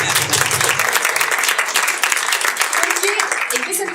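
Audience at a panel discussion on a musicians' union in Antofagasta applauding steadily, dense close clapping sustained throughout with voices faintly mixed in.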